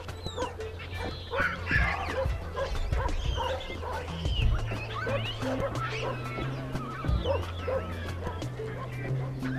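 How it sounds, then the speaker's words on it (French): Several wild dogs bark, yip and whimper in an excited, overlapping chorus, with a steady low hum underneath. "Les babouins partagent ce domaine avec un groupe de chiens sauvages."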